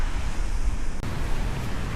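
Sea waves surging against coastal rocks at Shek O's Tai Tau Chau in Hong Kong, a steady broadband wash of surf with wind noise across the mic, continuous and fairly loud with no voices.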